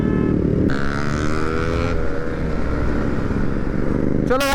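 A motorcycle with a loud aftermarket exhaust rumbles steadily throughout while being ridden, its engine droning close and constant, with a brief higher rev near the end.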